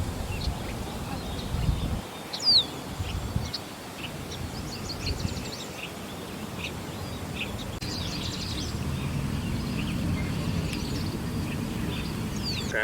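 A whip thrush sings a melodic song on a farm, with several short whistled phrases spaced through the clip. Other bird calls and a steady low rumble run underneath, and a brief thump occurs near the start.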